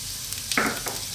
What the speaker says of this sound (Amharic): አሁን ለ4 ደቂቃ እንጠብሳለን